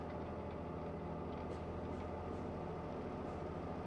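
Steam locomotive running on rails in the Train Mechanic Simulator 2017 video game, a steady low rumble with a continuous mechanical drone and no clear beats, moderately quiet and unbroken throughout.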